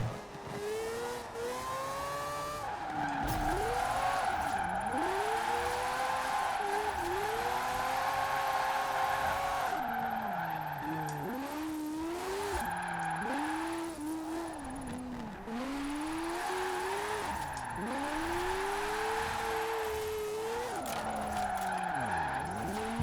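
A wide-body Acura NSX drifting in the Forza Horizon 4 racing game, engine revving up and down continuously as tires squeal and skid through repeated slides, loud and steady throughout.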